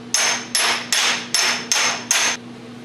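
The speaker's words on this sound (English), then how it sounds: "The hammer and dolly set's definitely a great tool to have in your garage" Six sharp, ringing hammer blows on a metal panel backed by a dolly, evenly spaced and close, each with a short metallic ring as a dent in a floor panel for a 1937 rat rod is smoothed.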